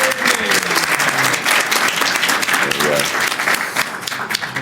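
Loud, close applause from a panel audience at the Thought Bubble comics festival as a new talent is called up, dense sustained clapping with a few voices calling out underneath.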